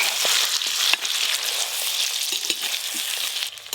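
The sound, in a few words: mutton frying in its own fat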